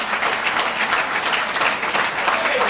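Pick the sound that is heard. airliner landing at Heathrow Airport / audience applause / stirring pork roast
audience applause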